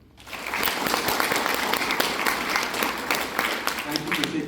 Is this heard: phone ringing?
no